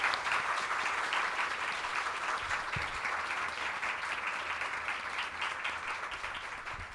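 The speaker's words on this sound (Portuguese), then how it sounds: "pudéssemos agradecer com uma salva de palmas" Steady audience applause fills the room after a history debate, a dense, even wash of many hands clapping that holds for several seconds and tapers slightly at the end, with no voices over it.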